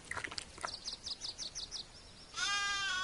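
A lamb in the FarmVille 2 video game gives a short series of bright, wavering bleats, followed by a brief higher game chime, clean and close with no talk.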